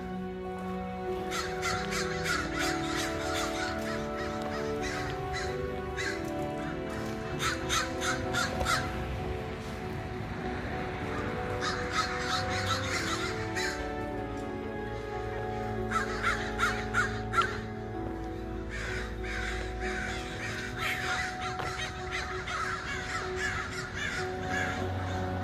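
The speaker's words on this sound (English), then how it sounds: "Those crows just add a totally eerie touch" Crows caw repeatedly in bursts at an abandoned hospital and insane asylum in Santa Rosa, California, the harsh calls clear and fairly close over a steady low background drone.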